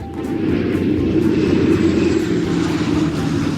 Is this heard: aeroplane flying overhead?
yes